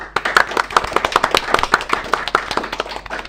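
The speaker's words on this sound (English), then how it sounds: "To give them a round of applause," A small audience gives a brisk round of applause after a live Dungeons & Dragons session. The sharp, dense hand claps are close and steady for a few seconds, with no cheering.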